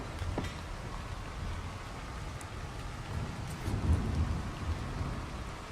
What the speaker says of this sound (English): That was lightning